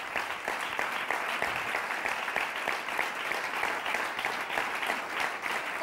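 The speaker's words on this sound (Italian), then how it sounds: "Fatevi un applauso, ragazze" A studio audience on an Italian local TV sports show applauds warmly and steadily, with a women's football team seated in the stands; the dense, continuous clapping fills the room with no voices.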